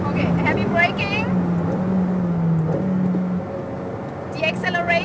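Ferrari F8 Tributo engine pulling hard on a track straight, a loud steady droning tone that holds and then eases, with a driver talking briefly over it.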